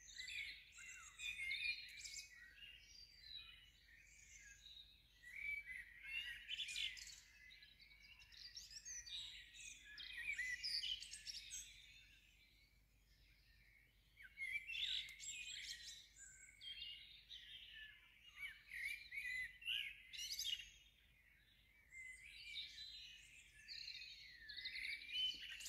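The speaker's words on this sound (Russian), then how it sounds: "потому что меня разбудили птицы. Они так сильно здесь и громко поют." Birds sing loudly at dawn in England, a busy chorus of chirps and trills at moderate distance that rises and falls continuously, with no voices.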